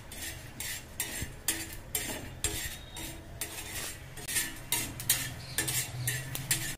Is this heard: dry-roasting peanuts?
yes